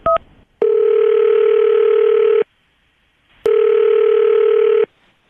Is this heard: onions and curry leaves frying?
no